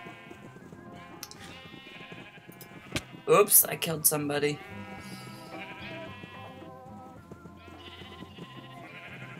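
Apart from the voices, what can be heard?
sheep bleating in Minecraft mini game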